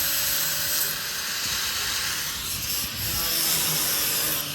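Power grinder running continuously on wood during loft construction, a steady, loud, abrasive whine with a rough, scraping texture throughout, no talking.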